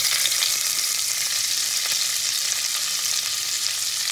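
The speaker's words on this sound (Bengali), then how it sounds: "কিশমিশ তুলে নিয়ে এবার এক এক করে সবজিগুলো ভেজে নেব" Beans and other vegetables frying lightly in a pan for fried rice, giving a constant, even hiss of sizzling oil at moderate volume with no voices.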